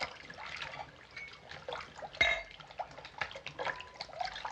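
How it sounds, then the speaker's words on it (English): Rum is poured into a container, a faint, uneven trickle with light drips and a single sharp glassy clink midway, quiet throughout. "Fill that up with rum."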